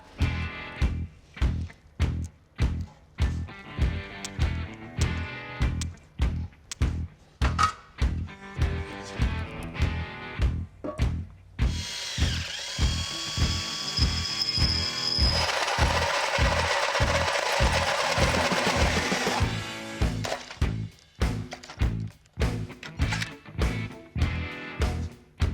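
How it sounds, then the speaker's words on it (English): A hole saw cuts into a Jeep grille shell in a rapid series of loud, regular rhythmic bursts, with a denser, steadier grinding stretch in the middle before the pulsing chatter resumes. "and then I'll use a hole saw to cut it out"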